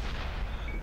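A tank cannon firing in World of Tanks: one heavy, rumbling boom that fills the whole short moment, loud and close, with no talk over it.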